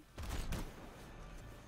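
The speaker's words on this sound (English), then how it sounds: "Oh yeah, it's like a shotgun." A shotgun fires in the Anthem video game, one or two faint booming blasts with a quick tail under a low game soundscape.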